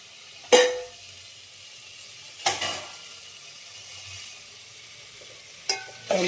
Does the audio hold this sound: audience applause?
no